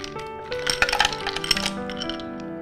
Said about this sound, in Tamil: Finally some ice cubes.